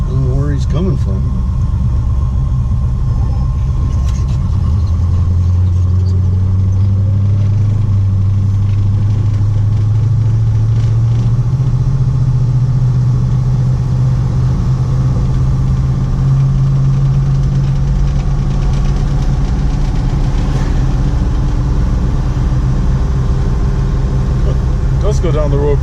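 A vintage American muscle car engine runs steadily with a deep, loud idle rumble throughout, a low droning tone shifting slightly as it goes, heard up close with no clear talk over it.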